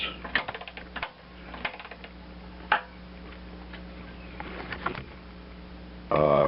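A wrench tightens a 15/16 bolt at a pulley on a Lug Bug 200 aircraft tug, producing scattered sharp metallic clicks and taps up close, then a brief louder burst at the end.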